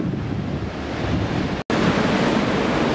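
Stormy sea waves roll in on the beach at Kobuleti, a loud continuous roar of surf with heavy wind buffeting the microphone and a brief dropout partway through.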